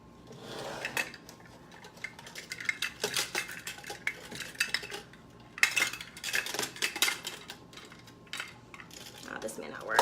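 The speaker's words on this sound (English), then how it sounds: "After this, we're just gonna finish mixing it" Cream cheese pound cake batter mixed in a bowl, a utensil clinking and scraping against the sides in uneven bursts, close by with brief pauses and quiet background talk.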